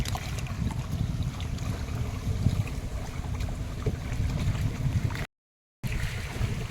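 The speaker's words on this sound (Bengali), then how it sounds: "নৌকা চলতে শুরু করেছে" A boat moves along steadily on a river in the Sundarbans during a storm, with a low broadband rumble of motion and wind over water and no voices, briefly cutting out near the end.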